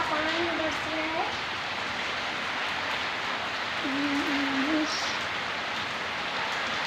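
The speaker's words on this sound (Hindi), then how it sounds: "ये देखिए जो सारा पानी बरस रहा है" Rain falling outdoors, a soft continuous patter at moderate distance, with a few faint whistling or hooting tones rising over it and no clear talk.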